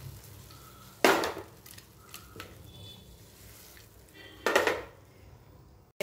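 A spatula scrapes and clatters against a pan while paneer is stirred with turmeric, with two loud, sharp bursts standing out over a quiet kitchen background. No one speaks.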